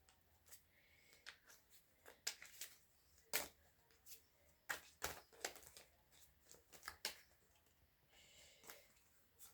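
Tarot cards are shuffled and drawn by hand, giving quiet scattered flicks and snaps in irregular bursts against a soft, near-silent background, with no speech.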